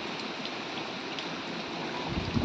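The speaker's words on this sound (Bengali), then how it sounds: "কখন থামবে বলো তো জলটা?" Steady, dense hiss of heavy rain pouring down outdoors, with a constant wash of water sound and no voices.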